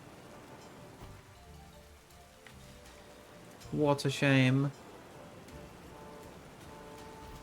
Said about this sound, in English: Where it is now raining again.